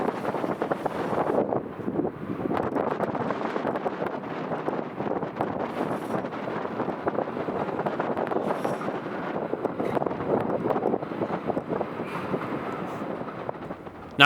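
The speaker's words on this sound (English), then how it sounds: "I posted up on the windy Millennium Bridge" Steady wind roars across the microphone on the Millennium Bridge while waiting for a southbound Union Pacific train on the joint line, a continuous broadband rush that stays loud throughout, with no voices.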